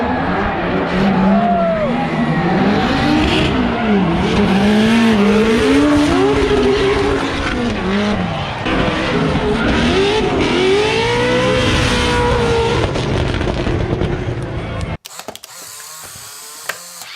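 Drift cars at a Formula Drift event roar loudly with sustained revving and screeching tire skids for about fifteen seconds, engine pitch rising and falling, before cutting abruptly to quieter crowd ambience.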